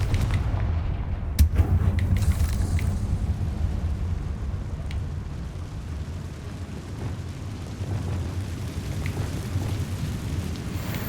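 A Confringo fire spell explodes in the video game Hogwarts Legacy, giving one sharp blast that trails into a continuous deep, rumbling roar like a long burning explosion. The roar stays loud to the end.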